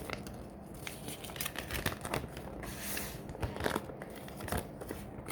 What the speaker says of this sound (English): Let's open it up.